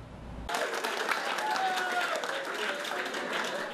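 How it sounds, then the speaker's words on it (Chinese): Applause and cheering fill a celebration banquet honoring Taitung's team of secondary-school athletes, a dense, steady wash of clapping that starts abruptly and holds loud and close throughout. "掌声欢呼不断，"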